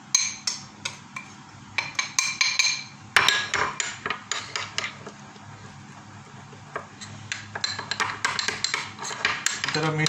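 Spices such as garam masala, chili, coriander and cumin powder being stirred into chicken with yogurt in a metal bowl, giving repeated clinks and scraping knocks of a spoon against the metal in uneven bursts, close and fairly loud.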